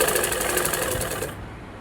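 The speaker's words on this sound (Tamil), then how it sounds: "நம்ம தையல் போட்டுன்னே வரலாம்." A sewing machine stitches blouse fabric with a quick, even mechanical whir and knock, running steadily for about a second before stopping.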